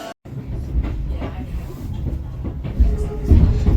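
A Japanese train rumbles steadily with low mechanical rattling and occasional clunks, growing louder toward the end.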